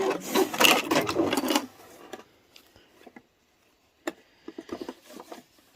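A home sewing machine stitches off the corner of quilted fabric binding on a layer-cake rotary cutter pouch: a loud, rapid mechanical whir for about a second and a half, then quiet, then short bursts of clicking as the needle turns.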